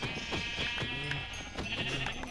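Several Minecraft sheep bleat in quick succession, wavering game-sound baas overlapping at close range over a faint background hum, with no talking.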